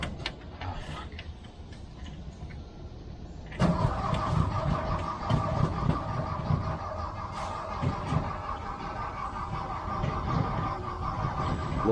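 Engine of a 1979 Volkswagen Bus cranking to start: quiet idle background, then a sudden steady churning starter drone that continues loudly to the end.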